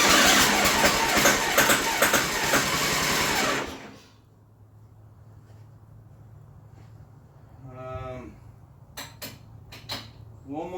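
A John Deere mud mower's small engine runs loud and busy with a rapid, buzzing, slightly knocky beat, then cuts out abruptly and leaves a low idle-like hum with a few faint clanks and rattles.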